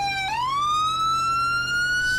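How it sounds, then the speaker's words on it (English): A police siren wails steadily and loudly during a pursuit in a video game, a single continuous tone rising in pitch after a brief dip near the start, with no talking. "I can't think with all these sirens."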